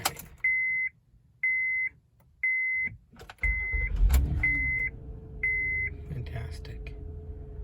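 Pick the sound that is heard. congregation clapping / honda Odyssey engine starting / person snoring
honda Odyssey engine starting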